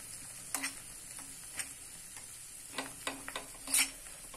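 Kathiyawadi-style garlic chutney being stirred in a pan after the gas is switched off, giving soft scraping strokes and sharp utensil clicks against the pan over a faint background hiss, with no talking.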